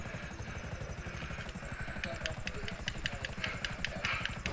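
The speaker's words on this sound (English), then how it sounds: "the helicopter landed next to me and then blew up" A helicopter's rotor thumps steadily and rapidly in the video game Grand Theft Auto V, with sharp ticking bursts layered on top, at a moderate, fairly distant level.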